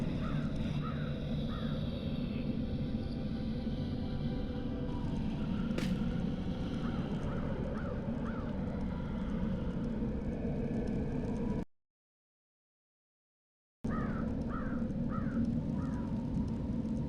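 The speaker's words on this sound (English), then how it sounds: "Crow." Distant crows give repeated short caws in small clusters in the video game Dreamfall The Longest Journey, set against a steady low ambient rumble that briefly drops to silence before the cawing returns.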